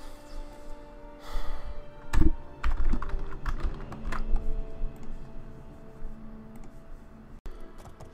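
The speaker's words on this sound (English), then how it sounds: "many mashings of the keyboard later, we're back online" A computer keyboard mashed hard, with irregular bursts of clacking keys, one sharp heavy strike standing out amid steady background hum.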